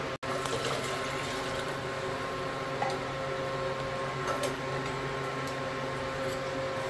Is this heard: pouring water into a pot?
yes